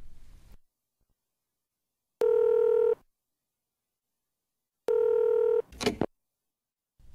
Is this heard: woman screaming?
no